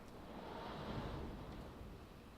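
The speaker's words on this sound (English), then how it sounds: "Do you hear that wind?" Wind roaring steadily outdoors during a severe storm, a continuous broadband rush with no voices.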